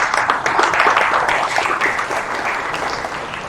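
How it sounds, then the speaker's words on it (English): A conference audience applauding, a dense, steady wash of many hands clapping at close range that swells early and then gradually tapers off over a few seconds. "And round of applause."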